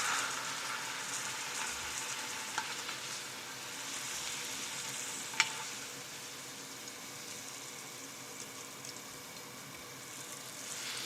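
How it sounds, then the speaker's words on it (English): Teriyaki sauce bubbles and sizzles in a pan as it reduces over heat, a dense, continuous frying hiss with a faint tick or two as the pan moves, close by and with no talk. "Rotating the pan over the heat will allow the sauce to evaporate and thicken"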